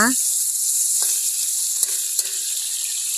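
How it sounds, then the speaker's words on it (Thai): Dried chilies and other ingredients sizzle steadily in a hot pan, stir-fried for Luosifen, with a few light scrapes of the spatula over the continuous frying hiss and no speech. "ผัดให้ส่วนผสมทุกอย่างหอมนะคะ"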